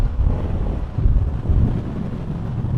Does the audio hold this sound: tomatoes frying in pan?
no